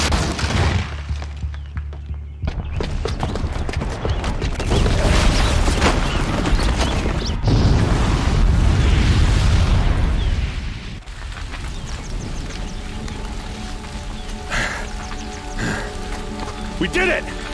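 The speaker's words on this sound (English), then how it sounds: "the booby trap on the bomb downstairs is gonna get set off" A bomb booby trap goes off in Horizon Zero Dawn, bringing a long, loud roaring rumble and crackling debris that swells and then fades. Someone speaks over parts of it.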